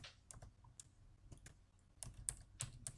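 Typing on a computer keyboard while entering data into an Excel worksheet: a close, uneven run of crisp key clicks and clacks, with irregular pauses between short bursts.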